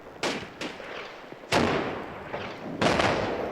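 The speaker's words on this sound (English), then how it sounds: "In comes a stick grenade." A stick grenade explodes in the World War II game Combat Mission Final Blitz, one of several sharp blasts with rumbling tails heard in quick succession, loud and without talk.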